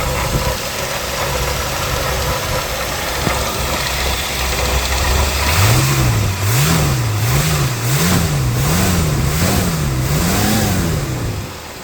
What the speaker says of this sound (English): I can't tell if it's the alternator or the water pump making a little bit of a racket.